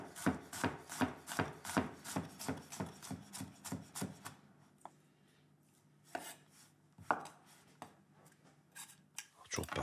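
A knife chops vegetables into chunky cubes on a cutting board for ratatouille, a quick, even run of close, crisp chops for about four seconds, followed by a few scattered softer knocks and scraping.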